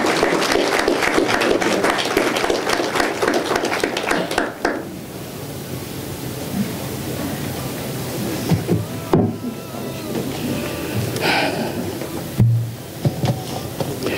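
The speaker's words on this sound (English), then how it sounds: "give a big round of applause" Audience applause at an outdoor cemetery Day of Remembrance ceremony, a loud burst of clapping for about five seconds that fades into open-air crowd murmur with scattered brief sounds.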